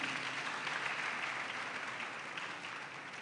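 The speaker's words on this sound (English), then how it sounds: "A hand of applause to KNUST." Sustained applause from a conference audience at a university e-learning week opening, dense steady clapping throughout at a fairly even level with no talk over it.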